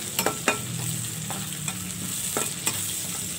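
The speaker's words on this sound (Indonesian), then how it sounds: "Kita tumis sampai layu dan harum," Aromatics are stir-fried in hot oil in a pan for tofu in oyster sauce. A constant sizzle is punctuated by several sharp spatula knocks and scrapes against the pan, with no voices.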